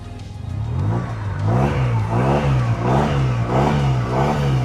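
A 2026 Yamaha TMAX 560 maxi-scooter's two-cylinder engine revs repeatedly at close range, rising and falling in a steady rhythm of throttle blips over a loud, continuous idle with no talk.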